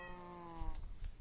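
Meow of a cat in the Minecraft video game, a single drawn-out harmonic call that fades into low rumbling game ambience.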